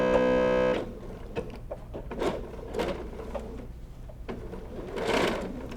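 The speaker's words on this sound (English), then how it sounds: "then just sew a 1/4 inch stitch all the way down" A sewing machine stitching a quarter inch seam on fabric: a brief steady motor hum at the start, then softer intermittent mechanical clicks and rustling of fabric handling, close by, without speech.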